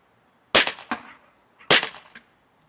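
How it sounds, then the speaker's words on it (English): Elite Force Walther PPQ airsoft pistol fired at a target, three sharp, loud snapping shots with short decays, two in quick succession then one more after a pause, close and alone. "we are going to go ahead and shoot this one"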